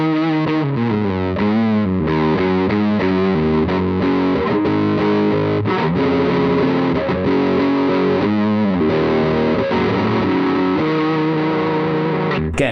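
Electric guitar through a Pigtronix Disnortion overdrive, fuzz and octave pedal on its low pass filter setting, a loud, continuous distorted riff with a dark, heavily filtered tone, played alone without talk.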